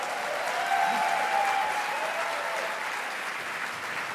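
A convention audience applauds during a welcome speech, with steady, dense clapping across the room at moderate volume, mostly without talk.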